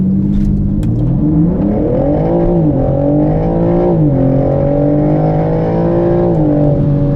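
A 2021 BMW M3/M4 Competition engine (510 hp) revs hard and climbs in pitch as it accelerates from a standstill, loud and close, with steady rising harmonics and no talking.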